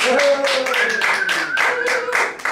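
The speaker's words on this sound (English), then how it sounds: "We could please just give them a round of applause" Rhythmic group clapping for stage show volunteers, close and loud in even repeated beats, with a voice talking over it throughout.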